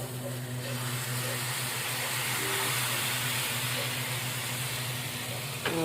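Dosa batter sizzles on a hot oiled pan in a home kitchen, a steady hiss holding at even loudness throughout with a low hum underneath and a brief scrape at the end.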